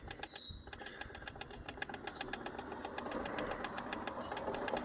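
A Ryobi 18-volt battery tire inflator pumping up a tire, a rapid rhythmic mechanical chugging that runs steadily and grows slightly louder throughout, close by and alone.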